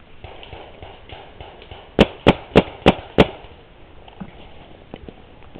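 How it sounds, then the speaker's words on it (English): Several shots fired toward a hunter crouched along a swamp line: five sharp, evenly spaced reports in a quick row at mid distance, standing out against a steady background hiss. "They're shooting at me."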